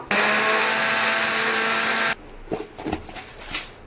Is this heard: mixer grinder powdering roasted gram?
yes